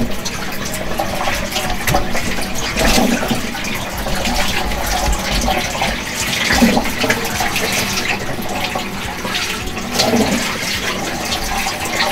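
Steady running water rinses dyed hair, a continuous close splashing rush that holds at an even level throughout with no speech.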